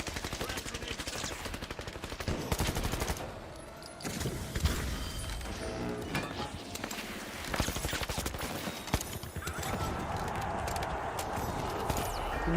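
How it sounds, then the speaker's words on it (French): Gunfire and explosive impacts from the video game The Finals, including a thrown grenade, crackle densely and continuously through the stretch, with rapid shot bursts under busy game noise. "J'envoie une grenade."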